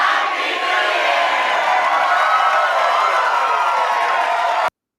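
A crowd cheering and shouting as a sound effect, a loud continuous roar of voices that cuts off abruptly near the end.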